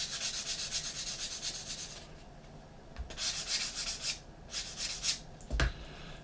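A plastic part from a Revell 1/72 Millennium Falcon model kit is sanded clean with several short, close rubbing swipes separated by brief pauses.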